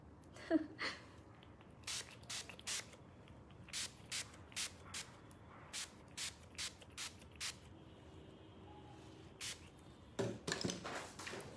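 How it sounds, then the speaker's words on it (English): A makeup setting spray is pumped in a series of short, crisp hisses, about a dozen evenly spaced bursts, close to the microphone and fairly quiet, with faint handling noise at the start and end. "this setting spray is the best setting spray I've ever used"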